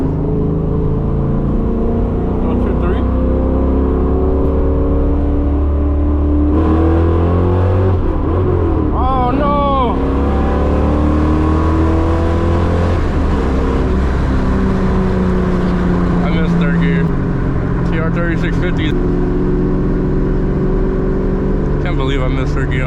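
A straight-piped 2003 Ford Mustang GT V8 accelerates hard from inside the cabin, its loud exhaust rising in pitch through gears with a brief shift break, continuous and dominant for the whole stretch.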